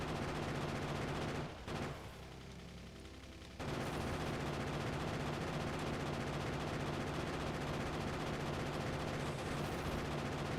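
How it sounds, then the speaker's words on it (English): Rapid, continuous machine-gun fire from the video game Factorio rattles loudly and densely, breaking off briefly for about two seconds before resuming as an unbroken stream to the end. "I love the machine gun sound."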